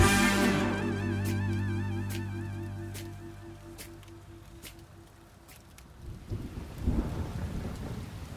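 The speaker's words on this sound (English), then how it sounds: "You're running in the rain." Steady rain with rumbling thunder, a long roll at first, then a heavier crack of thunder near the end over continuous rainfall.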